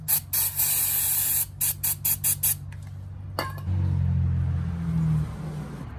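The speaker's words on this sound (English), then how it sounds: "Just spray some carb cleaner or brake cleaner on a rag or towel" Aerosol can of carb or brake cleaner sprayed in a series of short hissing bursts, then one longer burst, close and loud, followed by a low engine-like rumble and hum.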